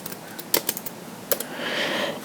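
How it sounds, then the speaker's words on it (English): Computer keyboard typing up close: a few scattered key clicks, then a quick cluster of taps, with a faint hiss rising toward the end. "The first thing you'll do is add a power note, and you can type in delivery."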